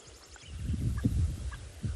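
Egyptian geese on an afternoon safari in South Africa, loud honking and gobbling calls rising repeatedly over a low rumbling background, with several bursts close together.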